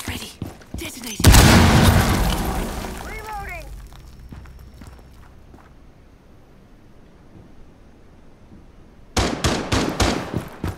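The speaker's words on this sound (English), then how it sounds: "Charge is ready! Detonating!" A breach charge detonates in Rainbow Six Siege, a loud close blast with debris that decays over several seconds, followed by a quiet stretch and then a run of sharp gunshots. Game voices can be heard.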